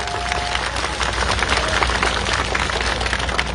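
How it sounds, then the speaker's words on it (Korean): An audience at an outdoor election campaign rally at Dongmun Rotary in Jeju claps in sustained, even applause, a dense wash of many hands filling the whole stretch without pause. "박원철 총괄 본부장님께 뜨거운 박수 다시 한번 부탁드립니다"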